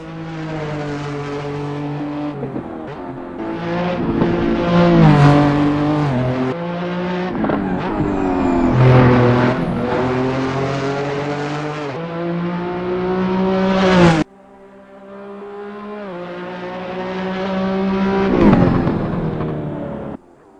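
A Skip Barber F2000 open-wheel race car in Assetto Corsa screams through the gears, its engine note climbing loud and close with repeated upshifts, then cutting briefly before revving up hard again.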